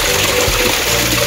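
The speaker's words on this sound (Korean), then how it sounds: "물 흐르는 소리가 들리면" Loud, steady rushing of a stream flowing beneath a house in Guryong Village, Seoul, close by and continuous, filling the whole moment without any voices.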